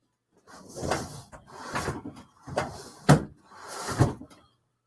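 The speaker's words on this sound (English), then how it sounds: "And I got to close this drawer. But something's holding it." A desk drawer being pushed shut that seems to stick, giving several short wooden knocks and scrapes in a steady series, close by and fairly loud, with no one speaking.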